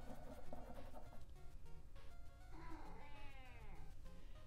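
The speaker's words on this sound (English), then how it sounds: "she just meowed" A house cat meows once clearly in the middle of the clip, a drawn-out, rising and falling call heard close up over a steady low background hum.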